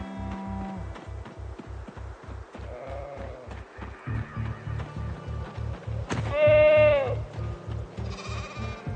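Sheep bleating in the video game Project Zomboid, with a few clear bleats over a steady, rhythmic ticking pulse in the background.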